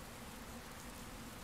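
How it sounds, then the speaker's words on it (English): Steady rain in the video game Dragon Quest Builders 2, a soft continuous patter of drops with no other sounds. "Oh, the sound of the rain."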